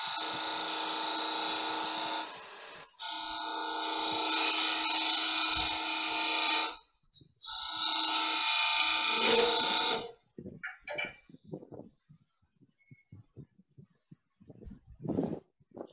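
Wood lathe spinning while a scraper cuts threaded inserts, giving a loud, steady, high-pitched whine in long runs broken by brief pauses, then sparse scraping ticks and short bursts toward the end.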